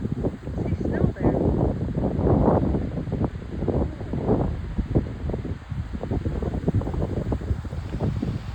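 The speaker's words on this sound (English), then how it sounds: "Yeah, it's really windy." Strong gusty wind roars outdoors as a storm moves in, buffeting the microphone with rumbling surges and rustling, steady and loud throughout with no clear talk.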